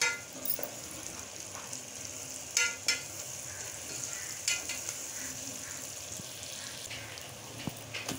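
Curry leaves, green chillies and onions with turmeric frying in a pan, a quiet steady sizzle with a few sharp spoon clinks and scrapes.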